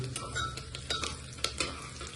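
Close, busy sizzling as masala-rice ingredients are sautéed in a pan, with repeated spatula scrapes and stirring clicks over the frying hiss.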